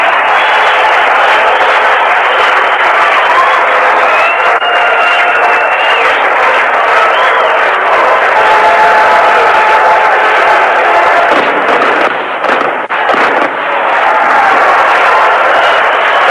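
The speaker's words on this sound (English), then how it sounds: "they can applaud themselves as they set a new all-time Chicago" A vintage Chicago White Sox ballpark crowd applauds a new all-time attendance record, with sustained loud, dense clapping and crowd noise that swells and carries on steadily with little pause.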